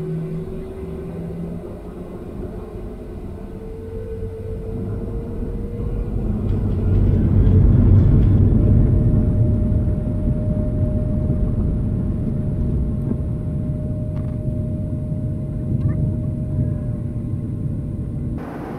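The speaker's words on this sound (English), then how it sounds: "Double check that your seatbelts are fastened tightly because this Boeing is going." A Southwest Airlines Boeing airliner rumbles through its takeoff roll in snow at Albuquerque, a steady low engine roar heard from the cabin that swells in the middle and holds, no talk.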